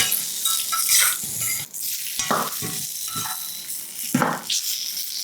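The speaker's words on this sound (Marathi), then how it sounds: "आणि आता याच तेलामध्ये ही जी भेंडी आपण तयार केली ही घालूया आणि भेंडी छान एक दहा मिनिटं तरी तेलावर शिजवून घ्यायची परतून घ्यायची" Okra sizzling and stir-frying in hot oil in a pan for bhendi masala, with steady frying hiss broken by repeated scraping stirs of a spatula, close and fairly loud, no talking.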